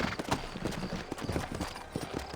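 In Red Dead Redemption, horses' hooves clip-clop steadily on a town road, a quick irregular trot of soft thuds heard close and alone.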